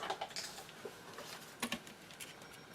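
Paper file folder being trimmed with scissors, giving a run of quick, soft crisp snips and small rustles, close and fairly quiet, with no voices.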